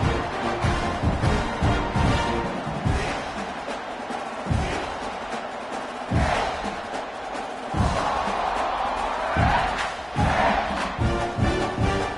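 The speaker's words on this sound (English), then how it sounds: "this crowd is buzzing after that last score" A stadium crowd in the NCAA 26 college football video game roars and cheers after a score, a dense, loud wash of voices that swells in repeated surges.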